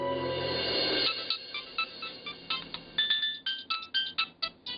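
An electronic phone ringtone plays alone in a TV drama scene, a bright repeating melodic pattern of short chirping tones, steady and fairly loud.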